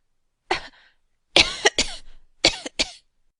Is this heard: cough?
yes